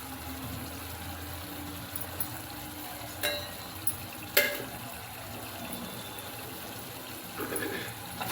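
Tomato gojju sizzles steadily as it fries in oil, with occasional spoon scrapes and stirring knocks in the pan over a continuous soft crackle.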